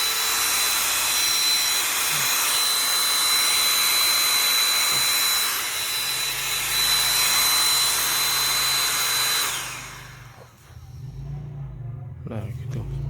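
A Kadonio KC VC96 wireless vacuum cleaner runs with a loud, steady whirring motor and high whine for about ten seconds before switching off, leaving quieter handling noises and a low hum.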